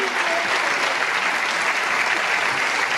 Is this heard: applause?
yes